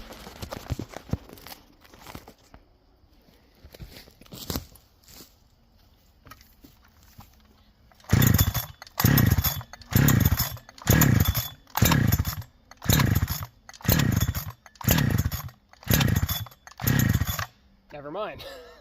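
A Farmertec Holzfforma G372 XP chainsaw fitted with an OEM Walbro HD12 carburetor idles roughly, then revs in about ten loud, rhythmic throttle bursts before cutting out, with brief talk near the start.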